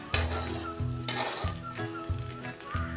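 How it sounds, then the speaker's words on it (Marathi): Sabudana khichdi with steamed potato sizzles in a pan while a spoon stirs and scrapes it, giving repeated clinks and metallic taps against the pan about every half second over a soft frying hiss, with no talking. "हे आता साबुदाणा मऊ होईपर्यंत एकसारखं परतत राहूया।"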